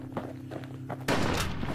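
In the video game Bastion, a soft thump and faint rhythmic tapping, then a sudden loud, crackling musket blast that sustains as a rough, noisy roar.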